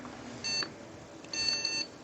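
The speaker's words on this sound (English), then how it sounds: "See, we're getting a beep and it sounds like 3 other beeps." Short electronic beeps from a computer motherboard powering on during testing, one beep followed by a longer burst, faint and alone with no talk.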